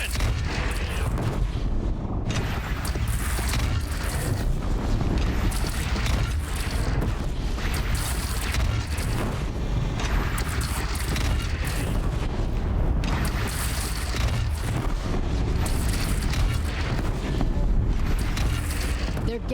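Cannon fire against bandits in Horizon Zero Dawn, repeated heavy booms rumbling over a dense, continuous battle din with wind-like noise throughout.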